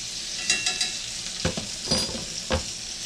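Beef steaks from an inexpensive butcher's cut sizzle on a charcoal grill just after being flipped, a steady close frying hiss broken by a few sharp scrapes and clatters, with no one talking.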